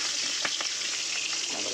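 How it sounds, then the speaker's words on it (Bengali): Fish fry in hot oil in a home kitchen, a close, continuous hiss and crackle with a few faint scrapes of stirring and no talking. "মাছগুলো সব ভাজা হয়ে গেছে, মাছগুলো তুলে নেব"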